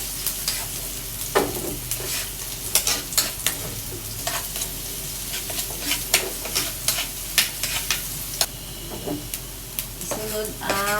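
Onion and garlic sauté in a pan, a steady sizzle broken by frequent sharp scrapes and taps of a spoon as the mixture is stirred, close and clear.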